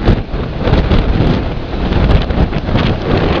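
Strong gusts of Typhoon Pedring batter the microphone outside a house in a loud, continuous roar that surges in waves, with no voices.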